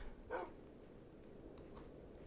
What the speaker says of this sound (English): Hello, little dog.